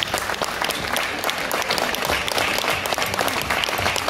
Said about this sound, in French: Voilà, on peut l'applaudir.